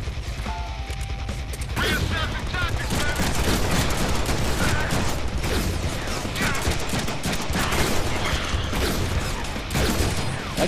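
Rapid gunfire from a weapon in the Deadpool video game, a dense sustained volley of loud shots with mechanical clatter lasting most of the stretch, with game voices faintly beneath.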